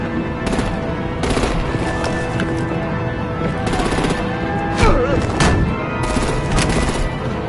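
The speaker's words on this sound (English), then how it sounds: "Break out the artillery and disable their vehicles!" Gunfire and artillery in the Batman The Enemy Within video game, dense rapid automatic bursts over a busy game soundscape, loud and continuous, with occasional heavier impacts.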